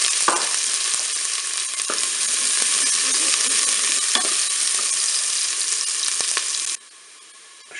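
Onions frying in hot oil inside a Cookeo electric pot, a loud continuous sizzle with a few stirring scrapes and clicks, cutting to quieter sizzling at the end.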